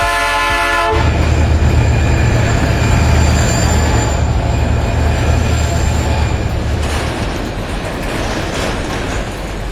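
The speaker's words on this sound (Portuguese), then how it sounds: "o trem que passa diariamente pela localidade dava os ares de sua presença." A train rumbles loudly past a small rural village, its horn sounding near the start and heavy wheel and carriage noise continuing close by throughout, easing slightly toward the end.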